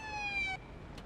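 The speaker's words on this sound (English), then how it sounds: "Is that the ambulance? That guy is loud as hell." Ambulance siren in the police video game Police Simulator: Patrol Officers, a loud steady wailing tone holding for about half a second, then cutting off abruptly into quiet background noise.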